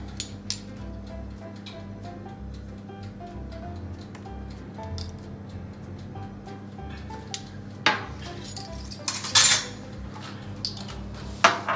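Batter for eggless banana honey muffins stirred in a bowl, giving intermittent light clinks and scrapes of a utensil against the bowl over a low steady background, with a few sharper knocks near the end and no talking.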